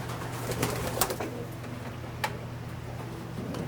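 Young racing pigeons in an aviary give low, repeated cooing, with a few sharp taps and wing or perch knocks nearby and no speech.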